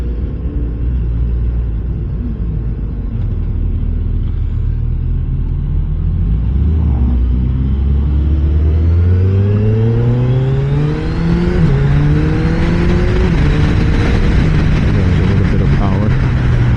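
A 2025 Suzuki sport motorcycle with an 11,000 rpm redline revs and climbs through rising pitches, loud and close, with the tone sweeping up repeatedly over a steady rumble.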